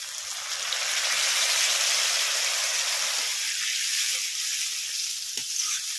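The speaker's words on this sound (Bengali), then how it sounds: "এখন জল দিয়ে দেবো, দিয়ে দিচ্ছি জল।" Water poured onto minced meat frying in oil in a pan sets off a loud, close burst of sizzling and hissing steam that fades partway through to a quieter crackle, with no talk.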